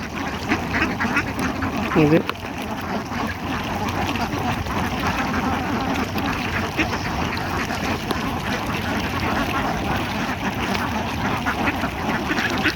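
A dense, continuous chorus of many farmed ducks quacking at once on a duck farm near a river in Bangladesh, steady and close, with a brief louder call standing out early on.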